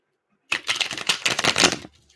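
Tarot cards being shuffled by hand, a crisp riffling burst of flicking card edges lasting over a second after silence, close and fairly loud, with no talking.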